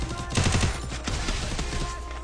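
Gunfire in a video game, with a dense burst of rapid shots early on and further scattered reports continuing through a busy, noisy game mix.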